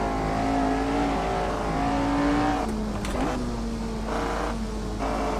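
An F1 car racing on the Nürburgring Nordschleife in the Assetto Corsa video game, a high-revving engine whine climbing through gears with brief shift dips, loud and continuous with no talk.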